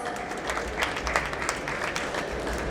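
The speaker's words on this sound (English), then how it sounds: "Let's give them a huge round of applause." A panel audience at a bridal jewellery talk gives a round of applause, a steady dense patter of clapping held at moderate level for the whole stretch.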